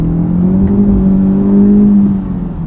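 A 2023 Honda Civic Type R, front-wheel drive, pushed hard along a back road: a loud, close, steady engine drone that swells slightly mid-run and then eases off near the end.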